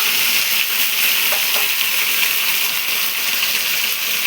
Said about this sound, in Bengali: আমি এই গাটি আর আলু দুটোকেই একসঙ্গে ভালো করে ভেজে নিচ্ছি।